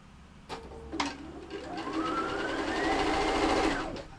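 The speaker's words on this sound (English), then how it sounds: "we're going to sew on the line" A sewing machine stitching along a seam line on a vanity case, starting with a couple of clicks and then ramping up into a close, rising mechanical whir that runs steadily before stopping.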